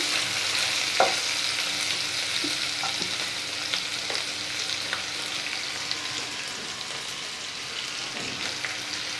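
Steady sizzling of beans and potatoes frying in a pan with salt and turmeric, with occasional soft scraping and clinks of stirring, no voices.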